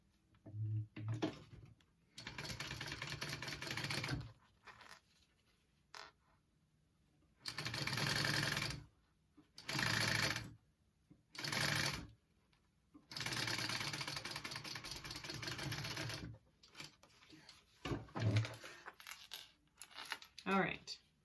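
Sewing machine stitching a shoulder bag in several bursts of rapid mechanical chatter, each a few seconds long, separated by quiet pauses with small clicks, close up and without talk.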